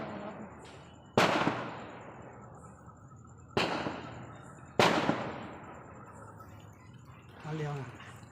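Firecrackers burst three times in sharp, loud cracks spaced a second or two apart, each ringing out and fading, with faint chirps and a voice near the end.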